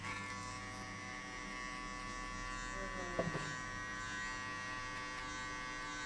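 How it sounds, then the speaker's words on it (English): Hair clippers, held half closed, buzz steadily while cutting a fade line during a zero high fade haircut, a close, even electric hum with a brief sharp contact click partway through. "I close the clipper halfway and I'll hit only this line."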